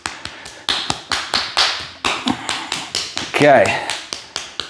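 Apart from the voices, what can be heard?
hand clap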